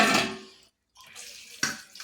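Water splashes over boiled cauliflower during rinsing, a close, loud, broadband gush that stops briefly and then resumes with a sharper splash toward the end.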